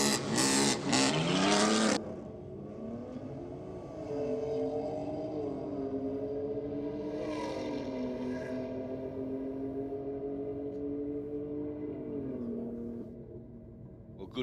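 A drag race car makes a night pass down the strip at a Sydney drag and burnout event, an engine roar heard from a distance that rises and shifts in pitch as the car accelerates away, steady and moderately loud.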